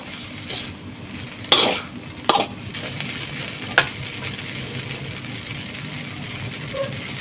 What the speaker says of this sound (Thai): ผัดต่อนะคะ